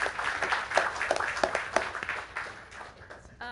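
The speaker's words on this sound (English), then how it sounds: "Give yourselves a round of applause." Applause from a packed audience at a city council meeting, a steady wash of many hands clapping that fills the whole moment and thins out toward the end.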